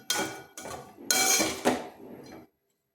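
A utensil scraping and clanking in a pan while a black-eyed pea pod stir-fry is stirred over a low flame, four close, fairly loud metallic bursts with no talk, then silence.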